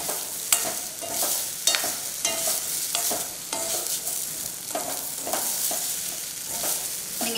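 Cut idli pieces are stirred in a frying pan for onion podi idli, producing repeated scraping strokes of a spatula over a constant oily sizzle, near and fairly loud, with no talk.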